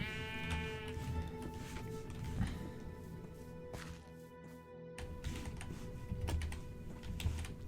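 Minecraft sheep let out several bleats scattered across a busy game soundscape, with footsteps and other game noises around them.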